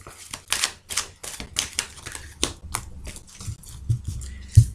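Tarot cards are shuffled by hand during a French reading about romantic energies, giving a series of crisp, close riffles and slaps in uneven bursts with a few soft thumps near the end.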